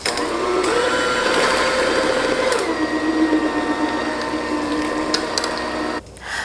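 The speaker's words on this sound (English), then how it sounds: "I'm going to use my electric mixer to make them really nice and creamy" An electric hand mixer whips mashed potatoes in a bowl, a steady loud whirring drone that runs for several seconds before cutting off near the end, with no talking.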